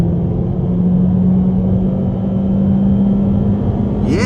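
A 2023 Honda Civic Sport Hatchback, VTEC engine with automatic shifting near 6,500 rpm, accelerates hard from inside the cabin: a steady droning engine tone climbs gradually under loud road rumble, rising sharply near the end as revs build.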